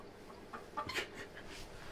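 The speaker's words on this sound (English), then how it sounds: "Those Polish roosters." A few soft, scattered clucks from a Polish rooster, close by but quiet, with brief pauses between the short calls.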